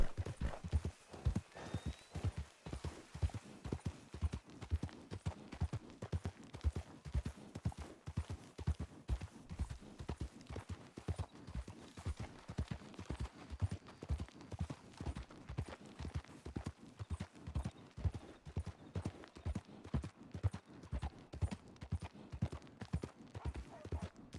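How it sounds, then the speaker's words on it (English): A horse's hooves clip-clop in a steady, even rhythm, with close, continuous footfalls for the whole stretch. "Well, that's a horse."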